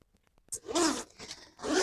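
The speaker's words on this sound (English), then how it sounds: "This is very smooth zipper" A smooth zipper on the front of a ride-on luggage scooter is pulled in two quick close strokes, a crisp rasping zip after a few faint taps.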